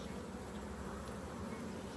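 Honeybees from an open hive drone in a steady, faint buzzing hum that continues with no pause and no voices.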